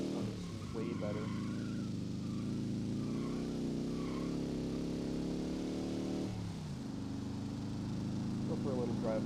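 An air-cooled VW Gol with a 2.0 twin-carburetor engine drives in BeamNG.drive, giving a steady, buzzy drone that holds its pitch, dips briefly as if on a gear change, then climbs again. Someone talks over the engine throughout.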